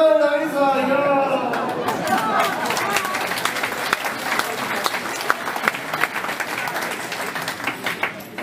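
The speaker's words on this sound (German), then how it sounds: "begrüßen Sie mit mir mit einem Riesenapplaus meinen kahlköpfigen Freund Bonsai" An audience at a citizens' and police festival breaks into loud applause. It follows a brief spoken announcement, then sustained clapping and cheering build and carry on with scattered sharp claps.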